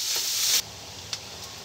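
Pork and sliced string beans for adobong sitaw sizzle in a pan, a loud bright frying hiss that drops off abruptly after half a second to a quieter sizzle with one brief clink.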